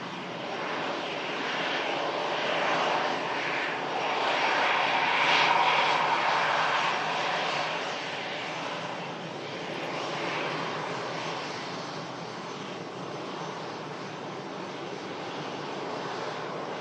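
EasyJet Europe Airbus jet fitted with Sharklets at Manchester Airport in stormy weather: a steady, broad roar of jet engines at moderate distance, swelling slightly midway, mixed with wind noise.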